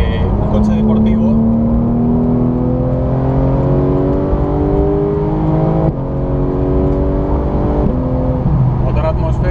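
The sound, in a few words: Porsche 911 GT3 naturally aspirated engine revving up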